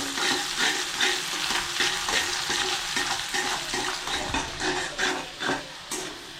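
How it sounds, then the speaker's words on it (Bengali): Sliced onions fry in oil in a wok with a dense, steady sizzle, broken by regular scraping strokes of a spatula stirring them, close and fairly loud, with no voices. "এই পেঁয়াজগুলো আমি ভেজে নিচ্ছি"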